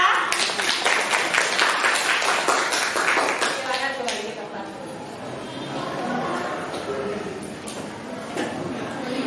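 A classroom of students applauds a presenting group in a short burst of clapping that fades after about four seconds, and a voice speaks as it dies away.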